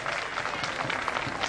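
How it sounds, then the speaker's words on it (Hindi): A crowd at a residential apartment society gathering in Lucknow claps in a short, faint burst of steady applause. "जोरदार तालियों से उनसे प्रार्थना करें।"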